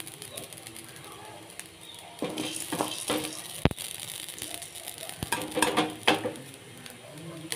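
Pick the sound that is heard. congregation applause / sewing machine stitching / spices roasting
spices roasting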